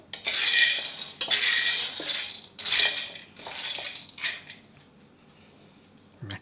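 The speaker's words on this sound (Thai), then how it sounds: "พอกระทะเริ่มร้อนก็ค่อยหมั่นคนเลยครับ" Repeated scraping and rattling of a utensil stirring peanuts roasting in a hot dry pan, several close bursts with short pauses, fading out near the end.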